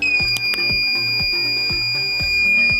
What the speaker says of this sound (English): as soon as I will look toward the camera, the buzzer will beep because distance is because the distance of the camera from me is below 60 inch